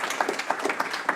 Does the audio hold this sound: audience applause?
yes